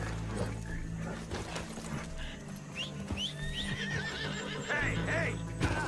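A horse in the Red Dead Redemption game neighs with several wavering whinnies over hoof clip-clops and a low rumbling background, with a voice talking over it.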